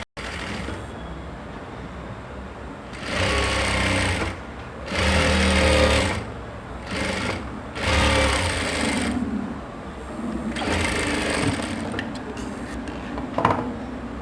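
Stitching on lehenga fabric with a sewing machine comes in several separate bursts of fast mechanical whirring, each a second or two long, with short quiet gaps between them and no voices.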